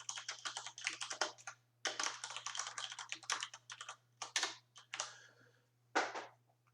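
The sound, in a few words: typing code on a computer keyboard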